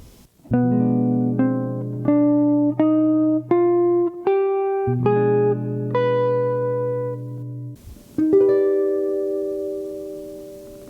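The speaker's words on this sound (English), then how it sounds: "And the final mode over B is the ultra Locrian." A synthesized tone plays the ultra Locrian mode as single notes stepping upward one after another, then pauses and ends on a sustained chord that slowly fades.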